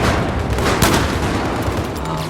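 USAS automatic shotgun firing frag rounds in Battlefield 4, a loud sustained barrage of explosive blasts blurring together, with one sharper crack standing out midway.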